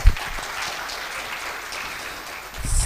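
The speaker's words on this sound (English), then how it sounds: "Give him applause." Audience applause at a university public lecture hosted for Ukraine's ambassador to Indonesia: a crowd claps steadily for a few seconds, dense and even, swelling slightly louder near the end.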